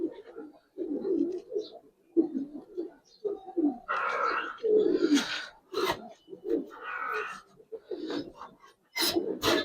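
A pair of Giribaz pigeons from Narayanganj, a male and a female, coo nearby in a string of soft, rolling bursts with brief pauses between them and breathy undertones. No one talks.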